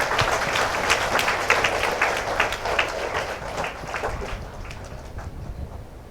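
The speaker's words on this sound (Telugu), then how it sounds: "క్లాప్స్." Audience clapping in a free personality-development training class, a dense patter of many hands that is strongest at first and gradually thins and fades toward the end.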